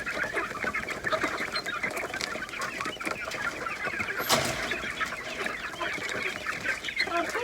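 Hen and chicks on a farm in cold weather, with steady close clucking and a dense stream of high chick peeps throughout.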